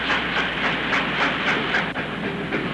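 A Western Maryland Railway coal freight train rolls past, heavy and close, with steady rumbling and regular clickety-clack of wheels over rail joints.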